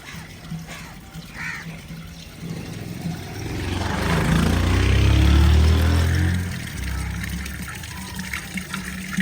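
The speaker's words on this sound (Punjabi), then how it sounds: "ਤੇ ਆ ਹੁਣ ਪਾਣੀ ਇਸੇ ਤਰ੍ਹਾਂ ਰੋੜ ਰੋੜ ਕੇ ਜਾਂਦਾ ਵਾ" Water pouring from an open pipe with no faucet fitted in a village setting, a steady gushing flow that swells loudest in the middle and then eases, with faint birds and traffic in the background.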